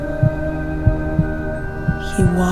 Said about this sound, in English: Tried to drown out the loud thumps of my heartbeat in my ears.